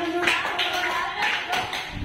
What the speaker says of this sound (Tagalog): Nalibigyan natin ang tatlong palakpak.